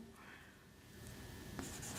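Marker or chalk writing numbers on a classroom board during a Hindi-language maths lesson on prime factors, a steady scratchy stroking sound close by with a faint room hum and no speech over it.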